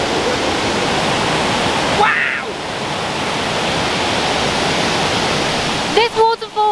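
The El Chiflon waterfall in Mexico roars with loud, steady rushing water that fills the whole scene, while a person briefly exclaims close by.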